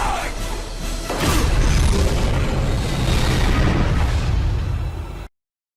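Naval gunfire in a war movie at sea: a sudden heavy blast erupts after a brief lead-in and rumbles on loudly for several seconds before cutting off abruptly.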